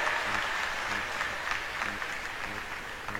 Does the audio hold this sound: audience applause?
yes